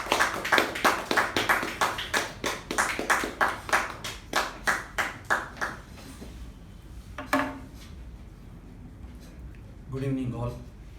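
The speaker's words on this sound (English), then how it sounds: "With a huge round of applause," A small meeting audience of club members gives a round of applause, a few seconds of close, fairly sparse hand clapping that thins out and stops, followed by a brief word from a voice and quiet room tone.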